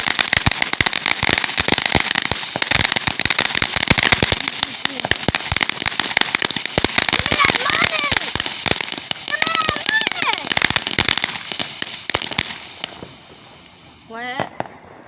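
Firecrackers and fireworks crackle in a long, dense string of rapid sharp pops. The bangs are close and loud, then fade near the end, while people, including a child, talk and exclaim over them.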